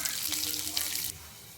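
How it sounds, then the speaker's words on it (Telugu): Water pours from a glass into a pan while upma is being cooked, giving a steady splashing rush with a faint sizzle underneath. It lasts about a second before the sound drops away. "ఇప్పుడు నెక్స్ట్ నీళ్ళు వేయాలి"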